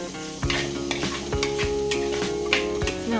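Onion and ripe tomato fry in a pan while a utensil stirs them, giving a loud steady sizzle with repeated scraping strokes and sharp clanks against the pan about every half second.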